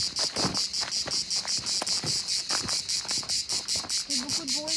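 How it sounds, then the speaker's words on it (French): A cricket near Marseille chirps in a fast, regular pulsing trill, close and loud, with a few faint background noises under it. "tu entends le grillon? Oui. C'est typique de Marseille"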